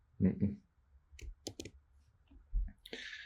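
Computer mouse clicks come as a few sharp, brief taps scattered between short bursts of speech, close and fairly quiet.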